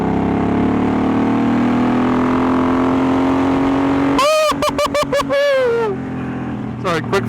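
An 800cc Suzuki Boulevard C50T motorcycle accelerating, its engine drone rising steadily in pitch up close before gear changes break into a series of quick revving pulses; a rider's voice is heard over it.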